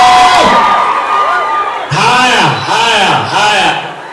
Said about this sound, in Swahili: Wapi makofi na kelele ya Sabido?